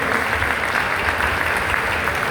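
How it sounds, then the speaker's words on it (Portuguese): A church congregation applauds together in a steady, dense wash of clapping that fills the hall, loud and continuous with no voices over it. "Você pode aplaudir o Senhor por essa palavra, em nome de Jesus."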